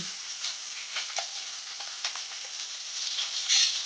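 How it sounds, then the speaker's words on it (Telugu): Chopped onions with green chillies and whole spices sizzle steadily in hot oil in a pan for chicken curry, a close, continuous hiss with small crackles and no talking. "అన్నీ వేసుకుని ఉల్లిపాయలు గట్ట వేసుకొని కొంచెం బాగా మగ్గినంత వరకు వేపుకోవాలి"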